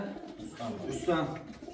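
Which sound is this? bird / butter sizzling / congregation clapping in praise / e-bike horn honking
bird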